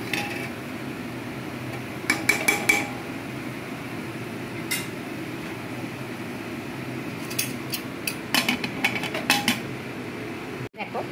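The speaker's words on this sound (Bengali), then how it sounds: "চলো, একটু ঢাকনাটা দিয়ে দিই।" A metal lid goes onto a pot of cooking meat in a home kitchen, a few quick clinks and rattles of the lid and pot against a steady background hum.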